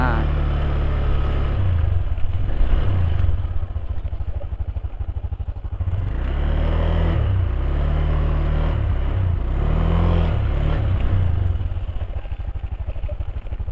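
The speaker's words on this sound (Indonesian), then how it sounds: "suara motor ini kedengar ngegerung dulu, nggak langsung maju" A modified Honda Beat Deluxe scooter sits stationary while its engine is revved several times, each throttle blip rising and falling in pitch over a steady idle, with someone talking over it throughout.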